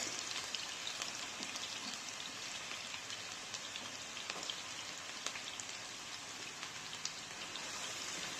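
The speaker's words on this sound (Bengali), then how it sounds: "পেঁয়াজকে বাদামি কালার হওয়া পর্যন্ত ভেজে নেব" Onions frying in oil in a pan for a hilsa fish curry with green sweet pumpkin, giving a steady, dense crackling sizzle with scattered pops throughout, close and even in level, with no talking.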